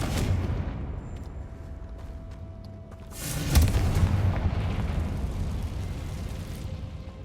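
The Confringo spell from the video game Hogwarts Legacy explodes as a sustained rumbling boom with a sharp burst near the middle, loud and close, over a low game ambience with no talking.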